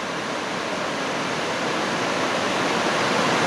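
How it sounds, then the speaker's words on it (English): A waterfall near Owen Sound pours with a steady, dense rushing roar, close and constant with no pauses. "Beautiful waterfall."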